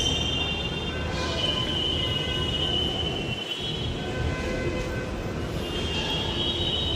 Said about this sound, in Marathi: ये मेट्रो स्टेशन है दोस्तों